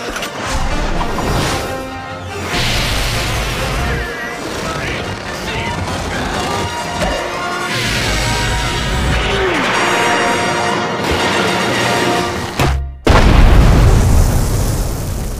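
A cartoon crash landing from SpongeBob SquarePants, loud booms, crashes and clattering impacts tumbling together over a dense music score, ending in a final heavy crunch.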